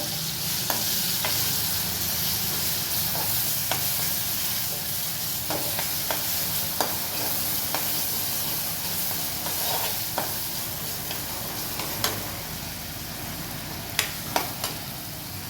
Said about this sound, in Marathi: मसाला घालून एक 2 मिनटं तो मसाला व्यवस्थित तेलामध्ये परतून घ्यायचा